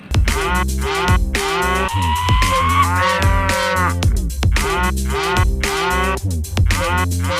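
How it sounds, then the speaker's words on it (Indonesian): A dairy cow toy gives out repeated long, loud electronic moos, one drawn-out call after another with brief gaps, close and clear with no talking. "Wow, ada sapi perah teman-teman."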